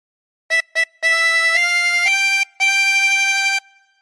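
A chromatic harmonica plays a short phrase of the Star Spangled Banner: two quick short notes, then a sustained run of held tones with a brief gap before the last long note, clear and close with no other sounds.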